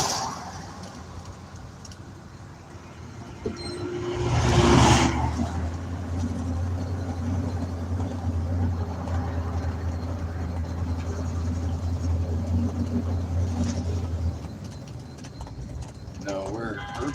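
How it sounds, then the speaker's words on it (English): Traffic rolls along a city street at night, a heavy low engine drone swelling in close for about ten seconds before easing off, with a rumbling background underneath throughout. "they got some traffic here"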